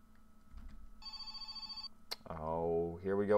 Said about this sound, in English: Oh, here we go with the phone calls.